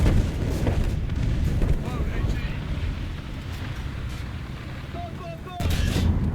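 In War Thunder, an M24 tank's cannon fires a high-explosive shell: a heavy boom bursts out near the end over constant engine rumble and wind-like noise.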